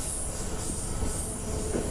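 Steady rumble and rail noise from inside a West Midlands Railway Class 323 electric train in Centro/Regional Railways livery, running near Gravelly Hill, with a faint squeal of wheels, continuous and close.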